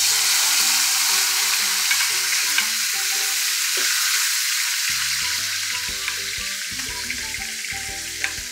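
Food fries and browns in a pan in a constant, close, loud sizzle, with occasional crackles and stirring sounds.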